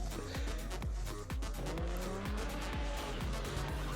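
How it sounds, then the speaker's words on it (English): A car street drifting at a car event, engine revving in rising and falling surges with repeated pitch sweeps and tire squeal, loud and close, continuous throughout with no clear talking. "Getting to drive around, do some cool street drifting, some other things."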